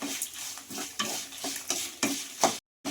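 Ingredients being dry-roasted and stirred in a pan over a low flame for a chutney, with repeated scraping strokes about every half second and a soft sizzle, close and fairly quiet, ending in a brief silence.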